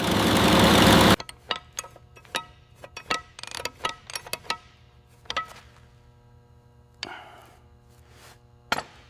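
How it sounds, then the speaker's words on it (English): A rebuilt WWII Douglas aircraft piston engine runs on a test bench after a loud start burst, then settles into an uneven series of sharp knocks and pops over a low steady hum, with no voices. "First test bench run, oil pressure perfect, all cylinders firing evenly after complete rebuild."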